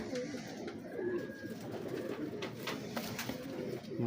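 Sialkoti high-flyer pigeons, some with green beads, cooing softly in repeated low calls close by, with faint background voices and light rustling.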